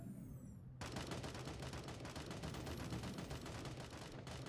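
Automatic gunfire in Sausage Man starts abruptly and continues as a steady rapid stream of close, loud shots, pausing briefly near the end before resuming.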